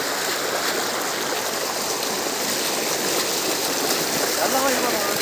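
Steady rushing water of the Penna River flows continuously and loudly close by in a Nellore village, with faint voices underneath.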